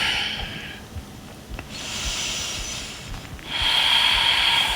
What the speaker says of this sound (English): 2 more inhales, 2 more exhales.